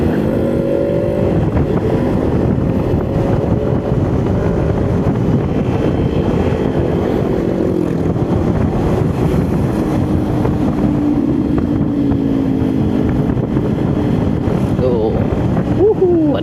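A motorcycle engine drones steadily while riding a steep, extreme mountain trail toward Majenang, Cilacap, with loud wind buffeting the microphone throughout and a rider talking over the noise.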